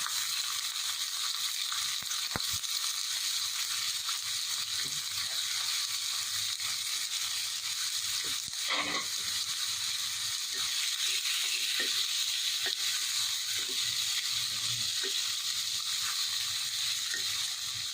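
Vegetables are stir-fried with cooked chicken in a pan, giving a steady soft sizzle with occasional scraping and stirring clicks from the utensil, fairly quiet and continuous, with no talking.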